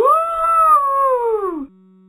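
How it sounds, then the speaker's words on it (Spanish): A single long, loud, tonal wolf howl that rises and then slowly falls in pitch, held for well over a second before cutting off, heard close and alone. "el lobo aúlla para que le eche algunas"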